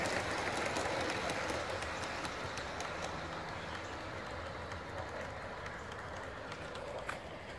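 Quiet, distant rolling of an Aster KPEV P8 live steam model locomotive on outdoor track, a soft steady rumble with scattered light clicks that fades slightly over time.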